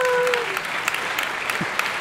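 Scattered clapping from a political audience at an Italian Democratic Party event, a thin spread of hand claps at moderate level, with a voice briefly heard at the start.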